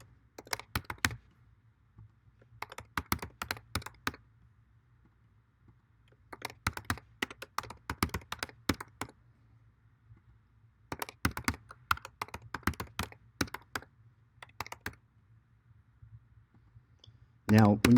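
Rapid clicking keystrokes on a computer keyboard come in several bursts separated by pauses as a form is filled in, close and crisp over a low background hum.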